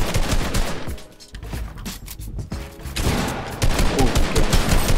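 Fortnite gunshots during a build fight: loud rapid volleys of automatic fire, a brief lull in the middle, then more sustained shooting until the end, with no talk over it.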